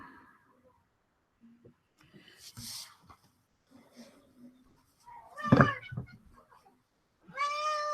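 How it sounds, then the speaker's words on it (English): Several cats meow indoors at feeding time, with short harmonic cries rising loud and close near the end amid clattering and faint household noise. "I'm going to feed my obnoxious ass cats because they're driving me insane."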